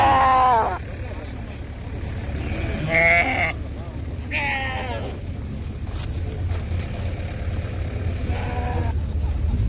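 At a livestock market in Taraz, sheep with lambs bleat in short wavering calls, about four spaced across the stretch, over a constant low crowd rumble.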